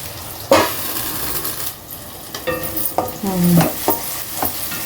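Onions sizzle and fry in hot oil in a pan, with a spoon stirring and scraping in short bursts over the constant crackle, close up and with no talking.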